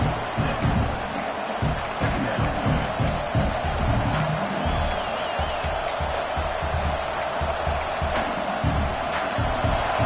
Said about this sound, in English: this crowd is turning it up a notch